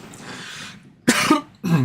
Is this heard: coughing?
yes